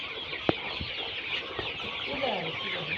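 Colorbird chickens cluck steadily while eating and drinking, a dense layer of overlapping fowl calls close by, with one sharp peck or knock near the start.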